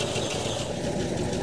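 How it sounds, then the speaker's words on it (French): A 1973 Citroën DS 23 IE Prestige with Henri Chapron finish, in original condition, idles with a steady rough mechanical drone and a faint knocking character, close and continuous throughout. "Le moteur ne fait pas du tout un joli bruit"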